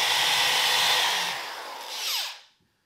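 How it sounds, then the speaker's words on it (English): A power drill bores through a piece of wood during a beginner woodworking project, giving a single loud, steady whir that fades and spins down to silence, with no voices. "So we'll finish drilling up this last piece now."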